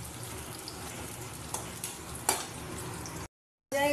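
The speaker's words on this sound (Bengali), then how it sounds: "পেঁয়াজটা একটু হালকা করে ভেজে নিতে হবে।" Onions frying lightly in a pan give off a steady, soft sizzle with a few small clatters of stirring, close and quiet, before a brief drop to silence at the end.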